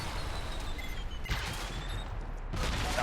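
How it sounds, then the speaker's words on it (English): A frag grenade going off in Alpha Protocol, heard as sharp, loud bursts of blast noise at about one and a half and two and a half seconds over steady combat din. "That was an actual frag grenade."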